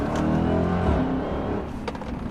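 A 2017 Dodge Charger Hellcat set to 500 horsepower accelerates hard, its loud engine roar rising in a steady climb close by, then easing slightly near the end.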